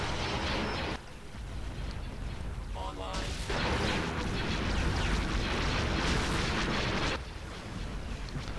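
Dense, continuous battle noise from Star Wars: Empire at War Forces of Corruption with a Clone Wars mod: a loud, steady roar of laser fire and explosions lasting throughout, with brief dips and a faint voice underneath.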